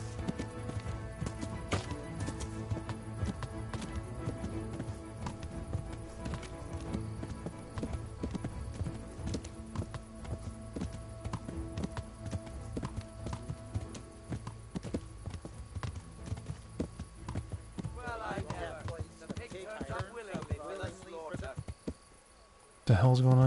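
Rhythmic hoofbeats of a galloping horse in the video game Kingdom Come: Deliverance, steady and close, with crickets and game ambience behind and a short snort near the end.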